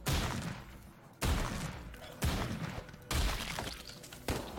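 A shotgun firing in the video game Madness Project Nexus: five loud, booming blasts at roughly one-second intervals, each one trailing off into a ringing, shattering decay.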